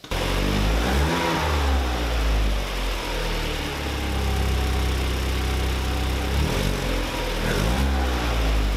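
An Opel Combo van with a tuned 2.0-litre turbo engine runs loud and close, idling roughly and then revving up and down in repeated surges, with a steady low rumble throughout.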